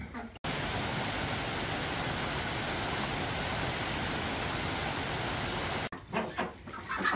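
Rain falls on a farm as a dense, steady hiss that starts and cuts off abruptly, with faint chicken sounds in the background.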